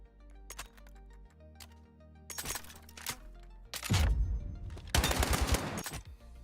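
Automatic rifle fire in the video game Battlefield 6, the weapon kicking with heavy recoil through an optic sight; scattered shots give way to loud, dense rapid bursts in the second half.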